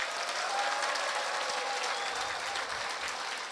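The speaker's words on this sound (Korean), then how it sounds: "우리 다 같이 화합하는 큰 박수를 주시기 바랍니다" Steady applause from an audience filling a lecture hall at a Saturday political talk, sustained and even throughout without a break, with faint tonal traces above the dense clapping.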